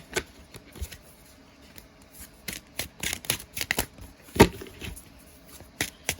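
Soft, irregular riffling and slapping of cards being shuffled by hand, in short bursts with quiet gaps, close and fairly faint.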